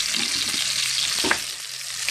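Bacon and sausage sizzle and crackle steadily in a hot pan, a continuous bright hiss with occasional pops and a light scrape.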